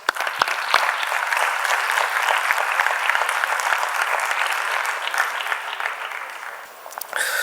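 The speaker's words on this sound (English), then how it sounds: "Let's welcome him with a huge round of applause." A large audience at the LASSI 2024 event on liberal arts programs gives a hearty round of applause to welcome a speaker, steady clapping that tapers near the end before a brief final surge.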